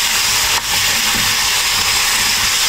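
Capsicum, onion, zucchini and carrot stir-frying with oyster sauce in a hot pan, giving a steady close hiss and sizzle with a brief dip in the noise early on.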